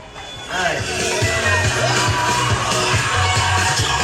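A crowd at a school year-end closing ceremony at École Jean Paul II bursts into loud, sustained applause and cheering, with whoops and shouts rising after a brief pause and holding steady.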